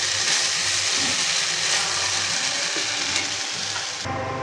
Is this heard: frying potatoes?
yes